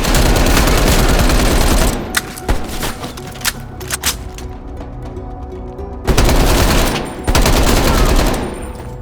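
Heavy machine gun fire in the Call of Duty: Black Ops Cold War mission End of the Line, loud sustained bursts that break off into scattered shots and distant rumble, then resume at full intensity.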